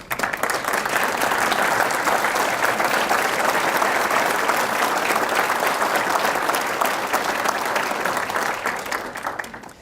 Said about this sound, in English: Please stand, all of you, for a round of applause.